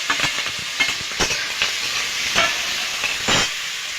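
Prawns sizzle steadily in hot oil in a kadai for an ichor chingri dish. A loud hiss is broken by repeated scraping stirs of a spatula across the pan.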